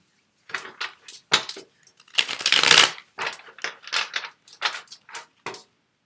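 Tarot cards are shuffled by hand in quick bursts, a run of crisp riffling and slapping sounds with one longer ruffle in the middle, close up and otherwise quiet.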